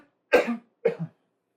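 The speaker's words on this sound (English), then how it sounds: "a cough." Two sharp coughs from a man, close and loud, one right after the other in quick succession, then silence.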